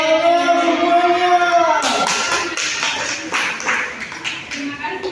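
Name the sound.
classroom applause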